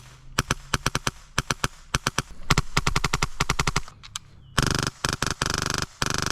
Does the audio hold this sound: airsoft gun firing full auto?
yes